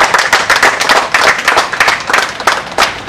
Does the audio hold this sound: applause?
yes